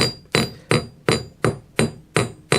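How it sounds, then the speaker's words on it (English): Seven evenly spaced hammer blows ring out on metal at a bench while a bracelet is forged, each strike a sharp, bright clang with a short fading ring, close and loud. "overlapping my hammer strokes"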